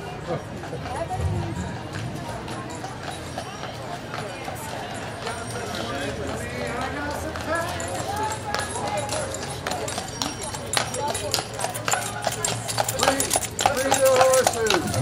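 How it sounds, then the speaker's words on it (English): Horses' hooves clip-clop along a street during a Dickens Fest parade, a steady rhythmic trotting under constant crowd chatter and nearby voices talking over the scene. "here comes the horses"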